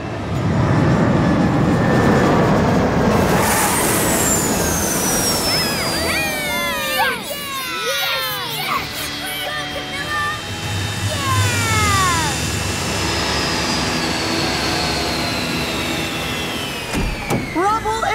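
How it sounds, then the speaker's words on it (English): A cartoon airplane comes in to land on a runway, its loud engine roar sustained throughout with whooshing and descending whine effects layered over it and voices briefly speaking. "you are cleared for landing for real this time. Roger that, Rubble. I can see the runway."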